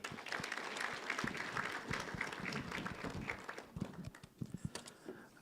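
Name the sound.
round of applause from conference audience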